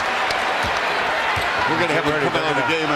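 Basketball arena crowd roaring and applauding at a Lakers versus Raptors game for Kobe Bryant's 81 points, a loud sustained wall of cheering with a commentator speaking over it.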